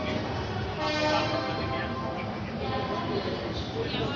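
A train pulling out of Varanasi Cantt railway station in the early morning gives a steady, dense rumble and rattle that fills the whole clip, with faint voices mixed in.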